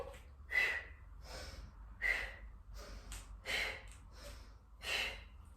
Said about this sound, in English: Now there, I'm doing exhale, inhale, exhale, inhale.